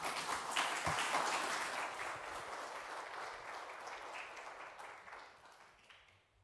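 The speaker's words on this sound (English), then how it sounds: "Another round of applause for the Alderman, Dan Plato, Executive Mayor of Cape Town" An audience at a Cape Town climate change action plan event gives a round of applause for the city's executive mayor, a steady wash of clapping from many hands that slowly thins and fades toward the end.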